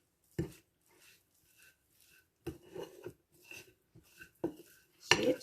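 Oil pastry dough being stirred and scraped around a bowl, with a few sharp clinks and scrapes of a utensil against the sides, spaced out and separated by quiet pauses.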